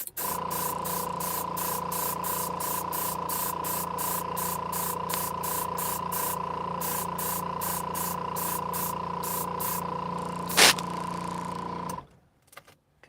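An airbrush sprays paint onto a Gundam model kit, producing a steady close hiss that pulses rapidly with a constant hum underneath, running continuously for about twelve seconds before stopping abruptly.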